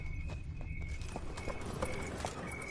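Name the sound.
horse Roach galloping in The Witcher 3 video game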